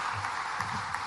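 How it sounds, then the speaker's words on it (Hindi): An audience applauds a family at a government event with a chief minister, giving a brief, steady patter of clapping from a moderately distant crowd. "एक बार ताली बजाओ ये दोनों डॉक्टर मलिक परिवार के लिए"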